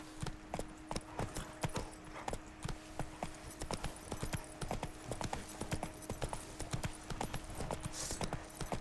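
Horse hooves clip-clop in a steady trotting rhythm in The Witcher video game, sharp repeated knocks over a faint hum, with no talk heard.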